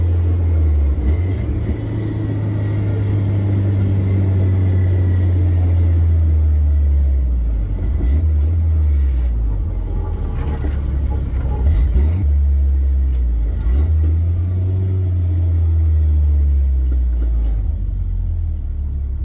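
A Suzuki Sidekick engine drones loudly and steadily as the small SUV drives down a road, its low rumble rising and falling with gear changes and acceleration, with no talking over it.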